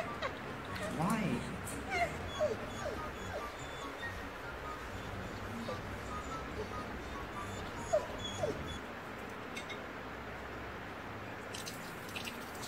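A thirsty dog whimpers and yips in short, high, intermittent cries over a steady watery background noise, with a voice talking through much of it.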